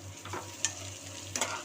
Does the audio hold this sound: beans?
yes